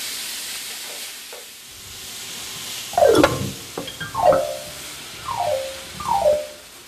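Ground meat frying in a pan with a little vegetable oil, a steady sizzle under several close scraping stirs of a spatula.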